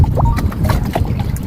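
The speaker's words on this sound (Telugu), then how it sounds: "ఎంత బాగుందన్నమాట ఆ వాటర్ సౌండ్." Water sloshing and splashing against a boat during a lake ride at Kondakarla Ava, close and fairly loud, with wind noise and faint intermittent tonal sounds over it.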